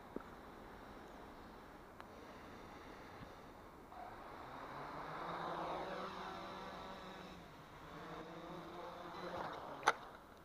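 A Hubsan H501 drone fitted with 3-inch propellers lifts off and flies, its motors giving a rising, wavering whine that swells and fades over several seconds, with a sharp click near the end.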